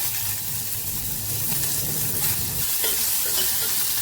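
Garlic, green chillies and onion sautéing in a pan, giving a steady loud sizzle and crackle with stirring scrapes throughout, close and continuous, with no voices.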